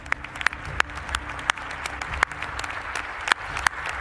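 Sustained applause fills a session of the Mexican Senate honoring members of the Armed Forces, a dense steady clatter of many hands with a few sharper claps standing out, continuous throughout without speech.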